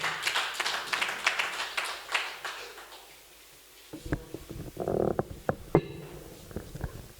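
An audience at a book launch and poetry gathering in Faridabad, Haryana, applauds a poet coming to the stage: several seconds of steady crowd clapping, then it dies away, leaving a few scattered knocks and thumps.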